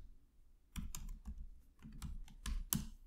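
Keystrokes tapped on a computer keyboard while entering a Linux ls command, a quick irregular run of close, crisp clicks with brief pauses between bursts.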